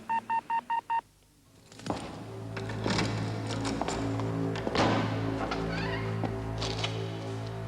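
Telephone keypad tones in a 1980s Australian TV advertisement, five quick evenly spaced dialing beeps up front, then a busier background of office sounds and tones.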